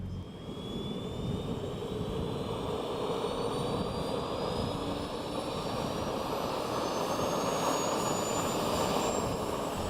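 The engines of a PTERA modular multi-engine test aircraft run up against the brakes in a steady jet-like roar. Thin whining tones rise gradually over ten seconds, heard alone at moderate distance.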